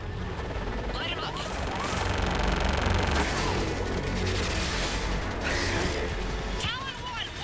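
Dense, continuous gunfire and heavy explosions from the video game Mass Effect 3 form a loud, chaotic battle din, with voices talking over it.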